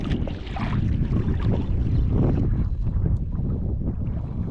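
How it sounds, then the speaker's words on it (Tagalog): Wind gusts across open water around a small fishing boat during boat casting, a steady loud rumble and buffeting on the microphone that continues without a break. "Medyo may hangin."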